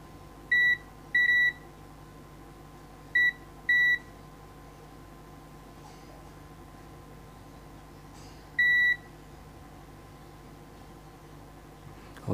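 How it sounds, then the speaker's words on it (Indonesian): A multimeter set to buzzer continuity mode beeps while a technician tests a power supply board, giving five short, loud, steady tones in pairs and singles, spaced across a quiet background hum. "Ini kita pakai mode buzzer untuk mempermudah."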